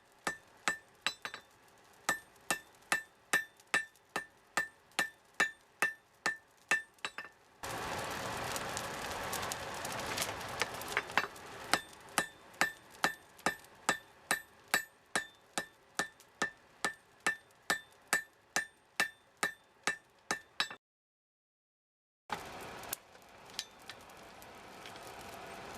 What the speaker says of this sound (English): Once the weld had taken, I started drawing out the tang of the knife before shaping the tip.